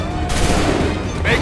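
Musket volley in Assassin's Creed 3, a dense crackling burst of many shots fired together, loud and close, rolling on for over a second and tailing off under shouted battle commands.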